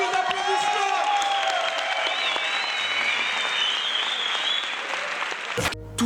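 An audience applauds and cheers at a live screening event introducing a short film, with dense steady clapping and whoops running throughout, sometimes with a wavering voice-like tone above it, ending in an abrupt cut.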